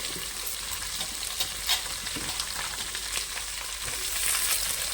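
Curry leaves, onions and green chillies frying in a pan for drumstick sambar, a continuous close sizzle broken by scattered light stirring clicks and scrapes, with no voices.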